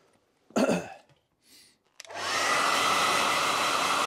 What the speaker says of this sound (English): Just going to blow my hairdryer over this just to warm it up to a fraction.